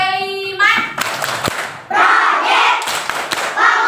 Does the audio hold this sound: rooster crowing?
no